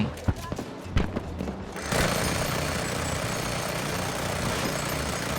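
Aircraft engine drone in the shooter game Battlefield 2042, a steady broadband roar building in and holding loud after a few sharp gunfire-like bursts, with a voice talking over it.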